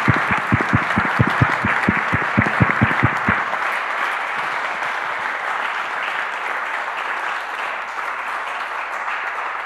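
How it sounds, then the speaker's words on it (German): Distinct rhythmic hand claps open, then a full audience breaks into sustained, even applause after a panel discussion at a publisher's salon event, continuing steadily to the end with no talk. "Ich glaube, ein Applaus"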